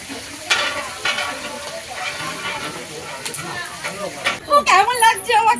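Fish paturi crackles in a frying pan in a crowded Bengali wedding kitchen, a continuous hissing sizzle with occasional scrapes, overlaid by nearby voices that grow louder toward the end.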